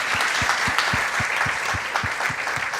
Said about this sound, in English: please give him a masterful applause